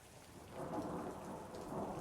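Rainstorm ambience with steady heavy rain and a low rolling rumble of thunder, a continuous dense wash of sound at moderate volume with no voices.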